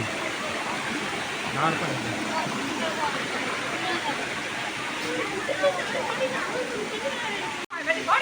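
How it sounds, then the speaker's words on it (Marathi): Water flowing between stones near a hillside temple in Sawantwadi, Konkan, a steady close rushing roar throughout with faint voices beneath. "असं दगडांच्या मधून पाणी आहे"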